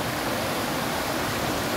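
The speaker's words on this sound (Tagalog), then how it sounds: "Grabe tubig oh." Water rushing in a stream or waterfall out in the countryside, a steady, even roar of broadband noise that stays close and unbroken with no voices.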